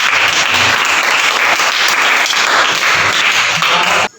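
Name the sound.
classroom applause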